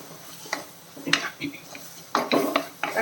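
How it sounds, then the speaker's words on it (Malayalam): Ground tomato being stirred in a pan on low flame, with irregular clanks and scrapes of a metal spoon against the pan over a faint background, close up. "തക്കാളിയും കൂടെ ഇട്ടിട്ട് രണ്ട് മിനിറ്റ് വഴറ്റി കൊടുക്കാം ലോ ഫ്ലെയിമിൽ വെച്ചിരുന്നാൽ മതി"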